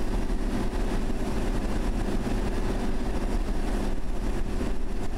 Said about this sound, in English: Watch the train move.